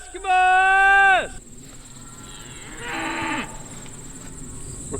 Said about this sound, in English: We're calling the cows